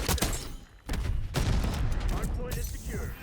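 Rapid AK74 assault rifle bursts from a Black Ops 6 match ring out loud and dense, with a brief gap before firing resumes and continues steadily over game sound effects.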